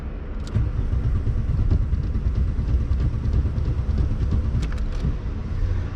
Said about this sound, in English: I might have revved her a smidge too much.